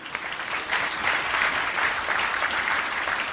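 Wedding guests applaud for the bridesmaids at a reception, a steady, dense burst of clapping from a crowd lasting a few seconds, close and loud.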